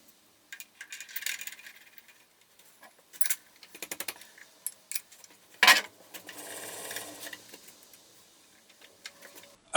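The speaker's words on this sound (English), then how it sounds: "let's give it a go on the milling machine." A milling machine cutting a spacer key ring with a 5 mm wide, 1 mm deep cut, giving intermittent scraping and ticking bursts with one sharp loud clack near the middle, close and without speech.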